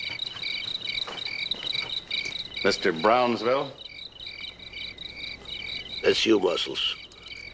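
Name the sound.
crickets chirping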